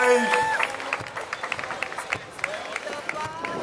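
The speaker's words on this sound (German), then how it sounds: "Den Applaus habt ihr gehört" Scattered audience applause along a horse market parade route in Gaildorf, outdoor clapping from spectators rising and falling, fairly faint, with a voice speaking over the start.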